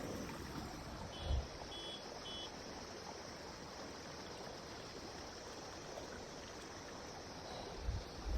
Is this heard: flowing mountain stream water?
yes